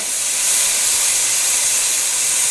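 Garlic and tomatoes sizzle steadily in a hot pan while crocodile is being cooked, giving a loud, continuous bright hiss with no breaks.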